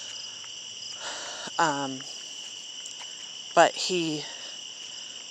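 At night, a frog or insect repeats two bright chirping bursts a couple of seconds apart over a steady high insect drone, with a single spoken word briefly in between.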